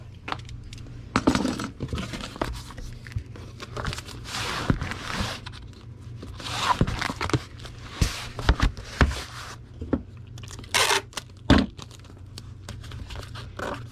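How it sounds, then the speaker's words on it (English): Tape is torn and pressed onto a cardboard model kit box, close and quiet, with scattered crinkling rips and rustles coming in short uneven bursts. "Alright, let's tape that into place."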